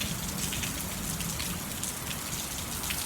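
Steady rain from a thunderstorm moving in, watched from a porch, a dense even hiss of drops pattering on surfaces, continuous and close with no voices.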